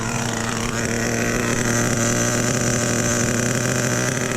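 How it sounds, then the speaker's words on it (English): Small engine of a radio-controlled truck idling, a steady, loud, buzzing drone with a constant low hum and no change in speed throughout. "we turn up the idle to keep it idling and take it back in there"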